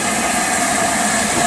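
An LMS Black 5 (5MT) steam locomotive, No. 45407 Lancashire Fusilier, pulling away on the Jacobite railway: a loud, close, continuous rush of steam hiss with a low rumbling undertone and no talk.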